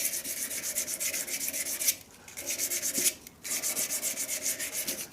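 A wooden shaving brush handle spins on a lathe against sandpaper, giving a rhythmic, pulsing rasp that stops twice briefly and then resumes, with no voices.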